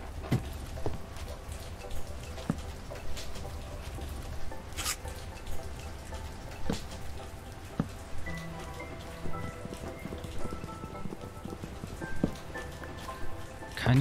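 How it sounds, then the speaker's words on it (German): Rain falls steadily in the video game The Way Home, a soft continuous patter with scattered drips heard alone at low level. "Fängt das schon wieder zu regnen."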